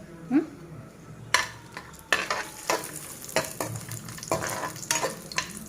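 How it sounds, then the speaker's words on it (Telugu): Cashews fry in a pan for carrot and beetroot halwa, with a soft steady sizzle and repeated scraping stirs and clinks of a spoon against the pan. "అవి వేగుతూ ఉండంగానే నేను చూడండి ఇన్ని జీడిపప్పులు వేస్తున్నా"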